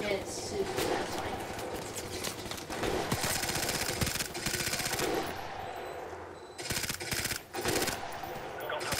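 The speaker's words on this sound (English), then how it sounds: "Okay, I'm gonna go engage an enemy. Man, this P90 has little recoil." P90 submachine gun firing in a video game, rapid automatic bursts with sharp repeated cracks, close and loud, broken into several separate bursts between brief pauses.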